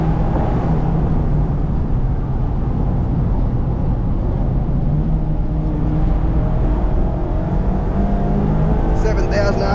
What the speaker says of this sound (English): with the roof down, you get to hear that high revving 4-cylinder engine